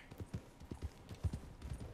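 Hooves of a ridden horse in a video game clip-clop in a quick, uneven rhythm, quiet and close, with several distinct strikes over two seconds and no talking.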